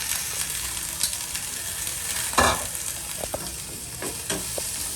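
Curry leaves and aromatics sautéed quickly for a fish curry: continuous close oil sizzle with intermittent spatula scrapes and one louder stirring clatter midway, no speech.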